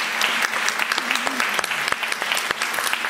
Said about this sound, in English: I think that definitely deserved that round of applause.